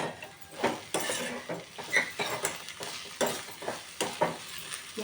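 Amaranth leaf curry being mixed in a pan, with steady rhythmic spatula scrapes and soft clinks over a faint fry, close and moderately quiet.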